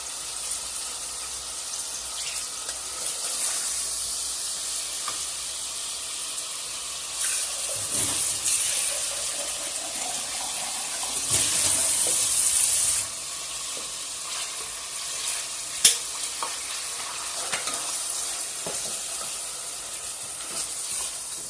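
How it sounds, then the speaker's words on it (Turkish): Beef hearts and onions sautéing in a pot for a Turkish rice dish, a steady close sizzle with bursts of louder hissing and occasional stirring clinks. "Soğanımızı da ilave ettik. Şimdi o da biraz kendini bulana kadar kavurmaya devam edeceğiz."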